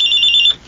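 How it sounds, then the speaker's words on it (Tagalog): A cellphone rings loudly with a steady electronic tone for an incoming call, a single short burst that cuts off cleanly. "Siya tumatawag sa cellphone ko."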